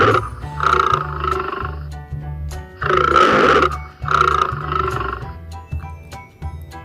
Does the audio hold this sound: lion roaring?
yes